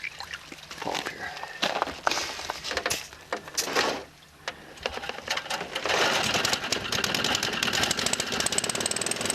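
A small sap pump motor whirs with a fast mechanical clatter while people talk nearby, the machine noise growing steadier and louder in the second half.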